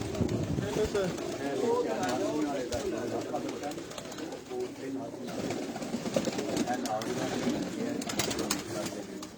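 A flock of pigeons coos continuously at close range, a dense rolling murmur of calls throughout, with someone talking over it.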